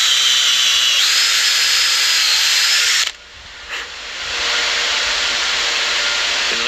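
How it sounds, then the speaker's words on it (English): A power drill runs loudly and steadily for about three seconds with a rising whine, then stops abruptly, leaving a brief quiet before a softer, hissing rumble continues. "So now I'm going to drill all these holes."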